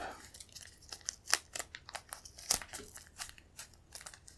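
Tape is torn and wrapped around a cosplay mag pouch for a harness, giving a run of close, crisp crinkling and ripping bursts with short pauses between them and no talking.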